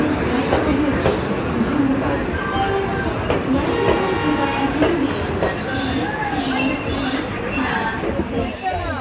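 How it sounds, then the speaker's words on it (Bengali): A train pulls into a station, its loud rumbling rolling past close by with rhythmic wheel clatter and squealing metallic tones, while people chatter in the background throughout. "চলে এসছে আমাদের ট্রেন।"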